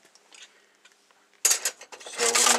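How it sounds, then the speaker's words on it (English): A small round chainsaw file scrapes a groove into a steel knife blank. A few faint scratches and taps come first, then louder, rasping file strokes follow one after another, close by. "And we're going to file this groove."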